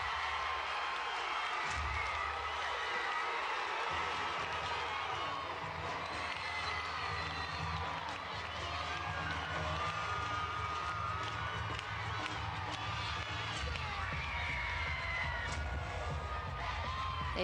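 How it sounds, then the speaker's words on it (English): A rambunctious gymnastics arena crowd at a college championship cheers and shouts continuously, with children's yells and whoops rising over loud music in the hall, all at a fairly distant, reverberant level. "The crowd is rambunctious."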